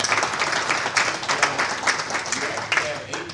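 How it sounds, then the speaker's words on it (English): Conference audience applauding at a GILPP gathering, a dense wash of clapping with scattered louder claps throughout, steady and moderately loud. "can we give him a round of applause"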